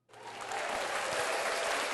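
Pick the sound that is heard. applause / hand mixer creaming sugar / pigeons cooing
applause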